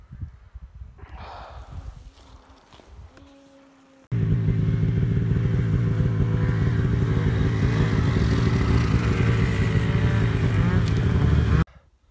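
Snowmobiles riding in deep snow at about -40 degrees, quiet rustling and a brief rising whine at first, then a sudden loud, close engine roar that holds steady for several seconds before cutting off abruptly.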